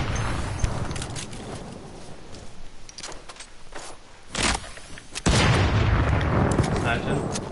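Sniper gunfire in an online video game: a few sharp, booming shots land among continuous game noise, with a heavier burst near the end.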